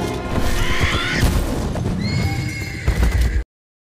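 A horse whinnies loudly and close, then rapid clip-clop hoofbeats gallop beneath it, with a second high neigh near the end before the sound cuts off abruptly.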